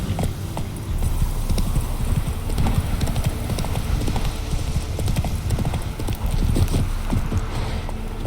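Horse hooves gallop in a steady rapid clip-clop on a road in The Witcher 3 video game, loud and continuous throughout, with faint background sounds of the game world.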